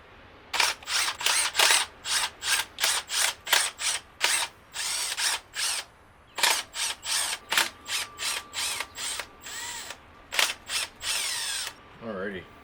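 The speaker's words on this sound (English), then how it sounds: "Let's get rid of the spark plugs." A ratchet clicks in rapid bursts as spark plugs are loosened from a BMW E30's M50 engine, the close metallic ratcheting repeating in short regular strokes with brief pauses between them.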